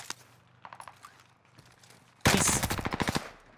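Call of Duty Warzone match on Rebirth Island: scattered faint shots and impacts give way to a loud, rapid burst of automatic gunfire with evenly spaced cracks that tapers off after about a second.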